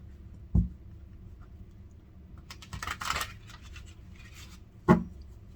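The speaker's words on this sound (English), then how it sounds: "One more shuffle." Tarot cards shuffled by hand give soft riffling and rustling bursts in the middle, framed by two sharp taps of the deck, quiet and close with no talking.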